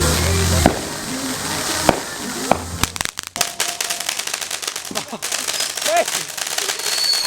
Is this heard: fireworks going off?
yes